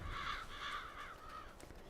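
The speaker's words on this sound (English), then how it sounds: "Yes, crows, I hear you." Crows in the Farming Simulator 22 game world caw in a rhythmic series of four or five harsh calls, fairly close and clear, fading slightly at the end, with no talk over them.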